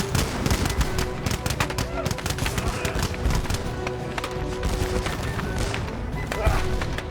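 A musket volley in a historical battle scene, fired during a driving snowstorm, with dense crackling gunfire and bursts of rapid shots that go on steadily throughout.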